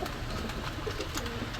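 A pair of Pakistani Afshan Girizel pigeons coo in a dense, continuous low burble, close and fairly loud, with no voices over it.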